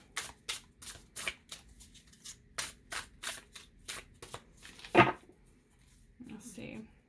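An indie Anima Mundi tarot deck is shuffled by hand in a quick run of crisp riffling bursts, close and fairly quiet, ending in a soft knock and a faint murmur.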